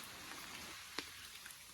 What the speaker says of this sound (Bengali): এখনো ফোঁটা ফোঁটা বৃষ্টি পড়তেছে।